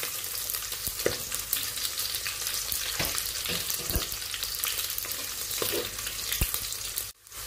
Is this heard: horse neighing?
no